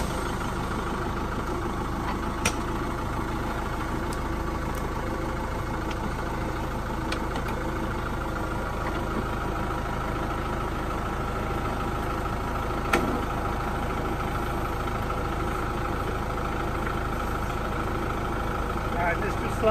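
A tractor engine idles close by, a low continuous rumble with a few faint clicks and knocks over it.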